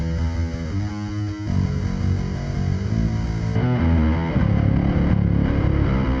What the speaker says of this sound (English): drive, some extra distortion, and some more.